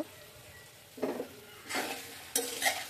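Pork and radish are stirred in a pan: three scraping sweeps of a utensil against the metal, each with a light clink, over a soft background sizzle, close up.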